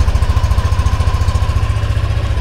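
A keyless motor scooter's small engine runs steadily at close range, a loud, even, rapid putter with a buzzy drone and no other sounds.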